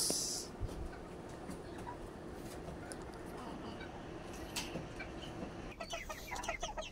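Bantam chickens cluck softly at a distance amid steady outdoor ambience during feeding time, with scattered short calls and a few sharper bird notes near the end.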